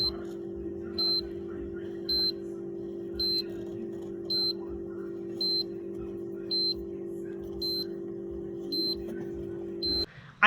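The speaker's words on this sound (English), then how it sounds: "The only complaint about this machine is that the alert, I cannot turn it off. It beeps all the time." An automatic egg incubator's alert gives about nine short, identical electronic beeps, evenly spaced roughly one second apart, over a steady low mechanical hum.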